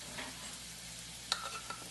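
Crushed garlic hits a hot pot and fries with a faint, steady sizzle, with a couple of soft stirring taps close by.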